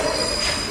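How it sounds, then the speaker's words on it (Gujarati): A fast train rushes through Billimora Junction past platform 1, a brief, loud, continuous roar of rolling wagons with a faint high wheel squeal. "ફાસ્ટ ટ્રેન ક્રોસ થઈ રહી છે."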